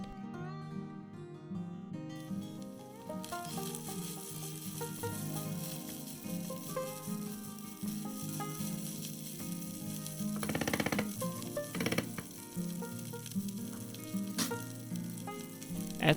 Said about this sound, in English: Fry everything at medium heat and mix everything together.